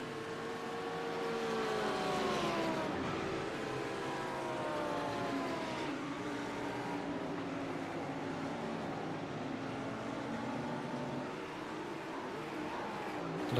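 Virtual race cars in a sim racing championship at Magny-Cours howl through the gears, their engines whining up and down in pitch as several cars pass and brake, a steady mid-distance roar.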